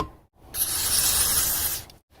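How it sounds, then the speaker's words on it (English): A close, sharp hiss of aerosol lubricant sprayed into a door latch, lasting a little over a second, with a brief rustle before it starts. "give this a good liberal spray"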